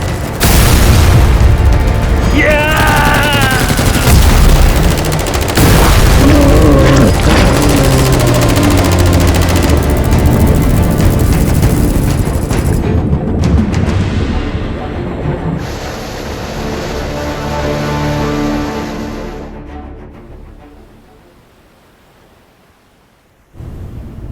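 Movie battle sounds of gunfire and explosions aimed at a giant octopus, a loud continuous roar of booms and blasts that fades toward the end, with shouted voices mixed in.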